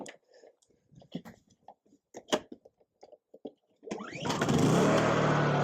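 A Honda generator engine cranks and catches after a stretch of clicks and handling sounds, then runs with a loud, steady close-up rumble.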